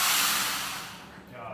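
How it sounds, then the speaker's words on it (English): An elephant blows paint from its trunk onto a t-shirt, a close, loud hissing spray burst that fades over about a second before a softer puff follows. "So some elephants can do the spray shirts."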